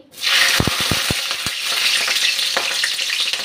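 Green chilies hit hot oil in a pan while cooking katla fish, setting off a loud, steady frying sizzle, with a few sharp clicks and pops near the start and no talking.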